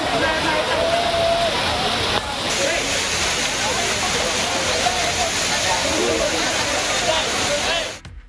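Kaviaruvi waterfall, running low, with tourists bathing, a steady broad rush of falling water, close and loud throughout before cutting off near the end.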